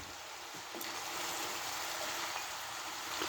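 Chicken and vegetables sizzle in a hot stir-fry pan, a dense, steady crackling hiss with a faint scrape of stirring, no voices.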